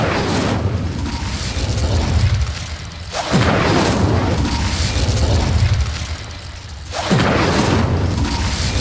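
Incendio fire spell cast in the video game Hogwarts Legacy, a loud whooshing burst that swells and drops off, repeating three times in steady succession with no talk over it.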